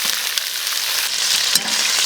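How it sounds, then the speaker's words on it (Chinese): Pork belly stir-fried in a pan with caramelised sugar for red-braised pork gives off a steady, dense close sizzle throughout, with a faint stirring scrape and no voices. "给它炒一下，炒上色。"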